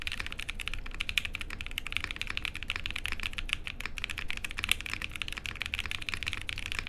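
Rapid typing on a mechanical keyboard fitted with Blueberry Chiffon light tactile switches, a dense, continuous patter of crisp key clacks heard close and alone at an even pace.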